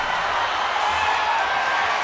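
A steady, even roar from a wrestling arena crowd during a Drew McIntyre vs Rob Van Dam match, a dense wash of cheering with no distinct claps or voices standing out.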